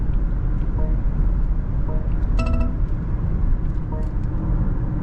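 A short, bright collision warning chime rings a few times over steady road rumble and engine noise inside a 2025 BMW X7 on a busy Indian highway.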